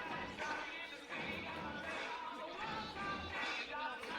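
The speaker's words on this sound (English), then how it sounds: "Crowd getting fully involved." Crowd noise from a near-capacity stand at a men's field hockey test match between New Zealand and Japan at the TET Multi Sports Centre, a continuous roar of many voices with swells and murmurs throughout.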